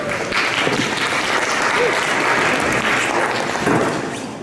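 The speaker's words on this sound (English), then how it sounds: "You don't always clap before you speak." A lecture audience applauds before a high altitude medicine talk, a dense, sustained clapping from a full room that swells slightly before tapering off.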